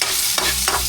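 Onions go into a hot pan where garlic has been frying, giving a brief, close burst of steady sizzle broken by a couple of quick scraping stirs, with no talking.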